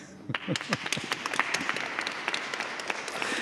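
Church audience applauding in a historic stone church, a sustained wash of many hands clapping with scattered sharper claps, moderately close and steady throughout.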